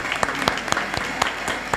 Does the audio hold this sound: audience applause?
yes